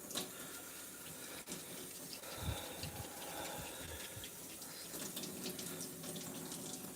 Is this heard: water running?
yes